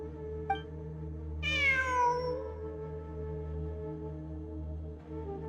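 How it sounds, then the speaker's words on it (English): A cat in the video game Genshin Impact lets out one clear, drawn-out meow that falls in pitch, heard over a steady low hum of game ambience. "I'm not hearing things. It really is a cat."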